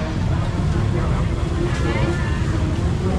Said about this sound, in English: Hear those motorbikes revving up.